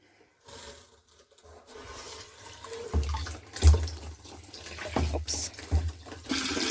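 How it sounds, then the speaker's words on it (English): Water runs from a tap at an off-road ranch's newly installed hot water supply, splashing and gurgling in an irregular, growing stream, with close handling noises and some faint talk. "Let's check the quality of water now."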